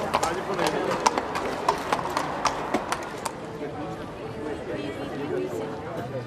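Horses' hooves clip-clop in a steady, uneven rhythm at a medieval festival in Clisson, with lords and ladies riding, heard under continuous narration and a murmuring crowd.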